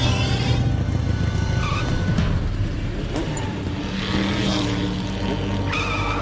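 A cartoon royal chariot of the sun races and skids, with a whooshing, engine-like roar, sharp squealing slides and quick passing sweeps over a continuous rumbling bed.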